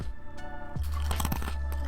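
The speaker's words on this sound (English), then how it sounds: "You hear that crunch?" Crunchy bite into a Wheat Thins cracker (Nabisco), close and dry, with a burst of brittle crackling and a few follow-up chewing crunches after a quieter start.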